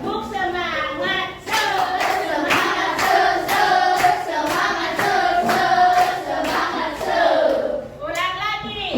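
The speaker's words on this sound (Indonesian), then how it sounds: "Tepuknya semangat dong biar kerjanya semangat." A group of children performs a rhythmic spirit clap (tepuk semangat), with bursts of patterned hand claps mixed with loud chanting voices close by.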